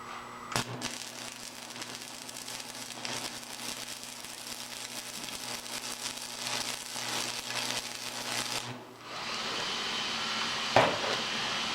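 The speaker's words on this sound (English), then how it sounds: "I'm going to throw a fast weld on that just for fun" A quick weld is run on a steady rest build in a workshop, a steady crackling buzz with sharp pops lasting several seconds before it cuts off, followed by a different steady hiss.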